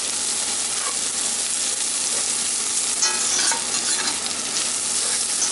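Rib eye steak sizzling in a cast iron pan, a steady dense frying hiss that runs unbroken throughout, close and fairly loud, with a few faint utensil scrapes and no voices.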